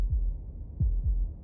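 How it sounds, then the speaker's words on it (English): Low, muffled heartbeat thuds in the game Slay the Princess, a few soft beats in an uneven lub-dub pattern, close and heavy against a faint droning background. "That was the sound of a heartbeat"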